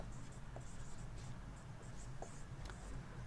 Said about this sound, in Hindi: दोस्तों आप लोग हेडिंग हम यहाँ लिखते हैं